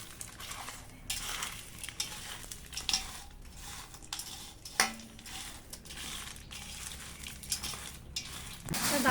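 Puffed rice (muri) being mixed with oil, salt and coriander leaves gives a continuous close-up rustling and crunching, with scattered light clinks and scrapes that grow busier toward the end.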